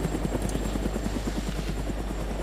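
A helicopter flies overhead in the video game DayZ, its steady rotor thumping in a fast, even rhythm that stays loud and constant throughout, with no voices.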